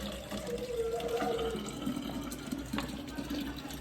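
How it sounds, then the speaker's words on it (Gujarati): Drinking water running from a household tap into bottles, a continuous splashing trickle with a rising filling tone early on, heard fairly close over a faint low hum. "ઢોકણા ખોલે ને હું બાટલા ભરું."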